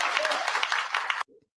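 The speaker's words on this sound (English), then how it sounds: "Give him a hand, everybody." A room of attendees at a village board meeting in Dolton claps steadily and densely for about a second, then the applause cuts off abruptly, leaving a brief faint murmur.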